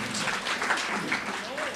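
An awards ceremony crowd claps for a student who dreams of being an animator, a soft, steady patter of applause heard from a distance, with faint room murmur beneath.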